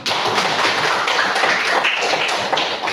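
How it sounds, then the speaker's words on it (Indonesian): A classroom of pupils claps hands together in a steady, dense burst of applause that lasts throughout, close and loud. "Oke, beri tepuk tangan dulu kita."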